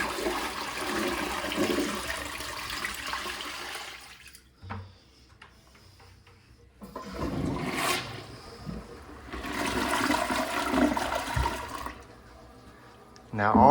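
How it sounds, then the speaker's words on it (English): A blue bucket of dirty water pours into a toilet, then the toilet flushes with a loud rushing gurgle, in two bursts of water noise separated by quieter pauses. "I'm gonna go ahead and dump that blue bucket of the dirty water into the toilet"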